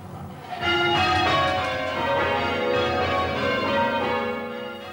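Church bells rung by bell ringers at an annual ringing festival, a sustained ringing of several overlapping bell tones that swells in and then keeps going at a steady moderate level.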